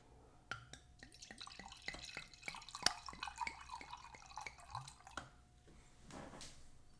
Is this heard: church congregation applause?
no